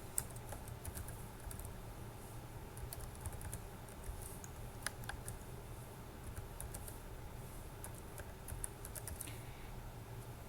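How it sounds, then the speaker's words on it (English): Quiet, steady typing on a computer keyboard, many light clicks in an irregular but continuous run, with occasional louder key strikes over a faint background hiss. "first what you need to do is to type your email"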